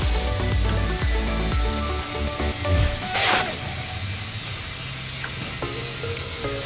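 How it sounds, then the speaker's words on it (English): A floor jack is set under the rear of a Mini Dwarf race car and pumped, giving clanks and a loud metallic rasp amid steady background noise and scattered knocks. "Now let's go bring the jack to the back. Okay, now let's put that in and we can jack it up."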